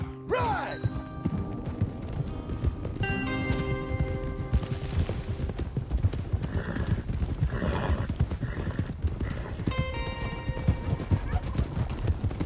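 Horses gallop in the Red Dead Redemption 2 video game, a rapid, continuous clatter of hooves with an occasional whinny, mixed with distant gunfire and game sounds throughout.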